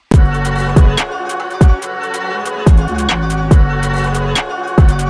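A UK drill type beat produced in FL Studio plays loud and full, with booming kicks lined up to gliding 808 bass, snappy snares and busy bright hi-hats in a bouncing rhythm.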